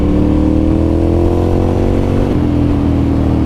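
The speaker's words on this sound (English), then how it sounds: "the whole engine just kind of shakes when you shift and when you give it throttle" A 2009 Ducati Monster 1100 engine runs loud and close, its pitch climbing steadily before dropping back as it shifts.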